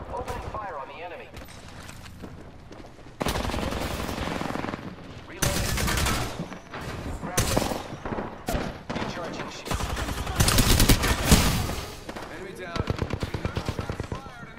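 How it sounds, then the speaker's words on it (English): Gunfire in the video game Apex Legends, loud rapid automatic bursts and fusillades that start and stop repeatedly, with game sounds and talk mixed in. "Open fire on the enemy"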